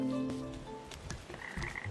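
A frog in the video game PaPo & Yo gives a short croak, then fainter clicks and chirps follow, quiet and alone without any talk.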